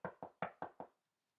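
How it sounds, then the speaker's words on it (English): Five quick, evenly spaced knocks on a door ring out clearly and close, then stop into silence. "knocked at the door."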